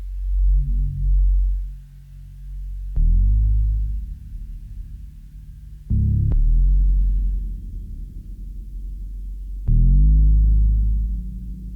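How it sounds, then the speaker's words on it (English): Deep, slowed-down audio from a halftime effect pitching it down one octave, with sudden hits marking sections every few seconds, each surging then sagging in a heavy, sluggish rumble. "EFX motions, taking the pitch down 1 octave"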